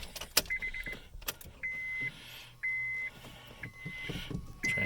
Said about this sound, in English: Ignition. Beeping.